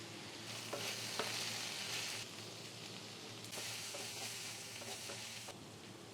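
Beans and onions sautéing in coconut oil for a Kerala-style lunch make a soft, steady sizzle. Periodic stirring sweeps and light utensil taps come through at a fairly quiet level.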